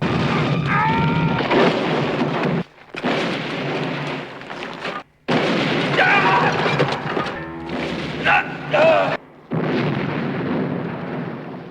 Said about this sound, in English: they spared no expense on explosions in this movie